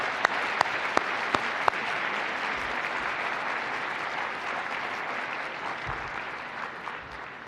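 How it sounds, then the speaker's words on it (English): A large audience of students in the UN General Assembly Hall applauds in a broad, sustained roar of clapping. A few sharp claps near the start stand out, and the sound fades slightly at the end. "So let's give a big clap and applause for all the students that have been working"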